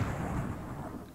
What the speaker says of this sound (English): look at all these freaking people causing explosions